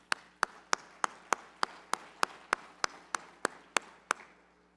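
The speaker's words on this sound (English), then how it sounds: "Let's take an opportunity and thank all of our WBPC sponsors right now with a round of applause" An audience at the Williston Basin Petroleum Conference applauds its sponsors with a steady run of about fourteen sharp, evenly spaced claps, fairly quiet, with no talk over them.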